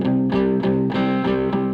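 Palm-muted electric guitar through distortion on the back pickup, struck down hard in a steady chugging rhythm of about six chunky, meaty chords, loud and close with no voice.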